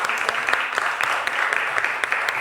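An audience applauds steadily at an indoor community talk, dense clapping throughout at a moderate distance.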